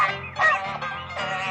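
Geese on a farm honk repeatedly in a quick, overlapping series of nasal calls, close and fairly loud, with no voices.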